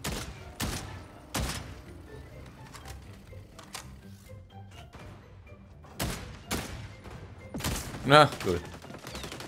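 Gunfire in the first-person shooter xDefiant, several sharp bursts and isolated shots spread over the clip amid softer clatter, with a short spoken remark in German near the end.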